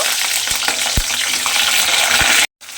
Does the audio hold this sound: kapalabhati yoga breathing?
no